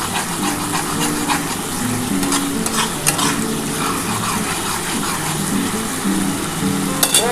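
Nigella seeds with dried and green chillies fry in hot oil in a pan, a steady close sizzle with stirring scrapes and a few sharper clinks near the end.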